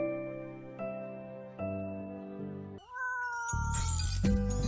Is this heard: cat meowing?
yes